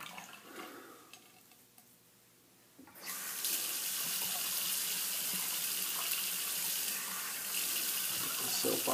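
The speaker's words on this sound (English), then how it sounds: "Rinse the hands off." A tap runs water into a sink as hands are rinsed, starting quietly and turning into a steady, loud rush that holds for the rest of the clip. No one speaks.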